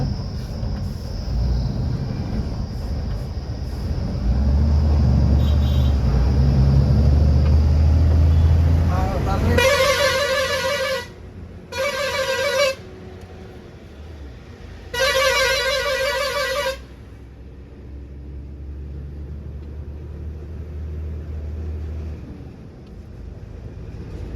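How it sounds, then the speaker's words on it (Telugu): Loaded apple trucks passing on a cold mountain road near Matiana, Simla, with a low engine rumble and several loud truck horn blasts in short bursts, while a voice talks over the road noise. "మొత్తం అన్ని యాపిల్ బండ్లు లోడ్ అయిన బండ్లు వచ్చేసి మనకు ఆపోజిట్లోనే అయితే వస్తూ ఉన్నాయి"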